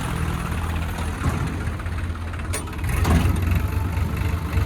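A tractor engine idles close by, a steady low rumbling throb that stays constant, with a brief sharper noise partway through.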